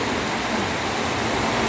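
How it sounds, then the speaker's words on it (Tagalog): Heavy rain pours down on a rural farm with pigs, a dense, steady, unbroken roar of falling water with no pauses. "lakas ng ulan."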